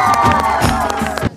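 A crowd of college students cheering and whooping loudly at a gathering at a degree college in Kurukshetra, a brief dense burst of voices that cuts off sharply after just over a second.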